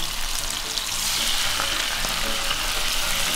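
Onions frying in a pan while pasta is cooked, a dense, steady hiss of sizzling oil heard up close and alone throughout.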